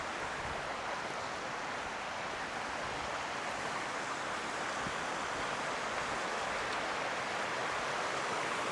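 A small river in Scotland flows on a calm, windless day, making a steady, even broadband rush that continues unbroken throughout, with no voices over it.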